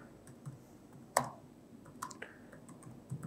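Keys clicking on a computer keyboard as a prompt is typed, scattered taps with one sharper, louder keystroke and several lighter clicks over a quiet room background.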